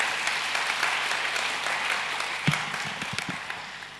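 A church congregation applauds to thank the teams, steady mid-level clapping from a crowd with a few louder nearby claps toward the end.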